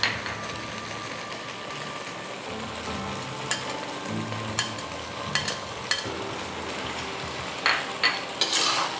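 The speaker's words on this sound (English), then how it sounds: "Stir and blend everything evenly." Hokkien noodles with pork cracklings, white pepper, sesame oil and crushed flounder stir-fried in a wok, a steady close sizzle broken by sharp scraping and clanking spatula strokes at irregular intervals, no voices.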